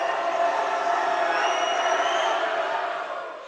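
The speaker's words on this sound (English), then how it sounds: "As the home crowd gets loud with Matos at the free throw line here." Home crowd at a women's college basketball game, Rochester at Indiana Tech, roaring loudly while a player stands at the free throw line, a sustained swell of cheering voices that eases slightly toward the end.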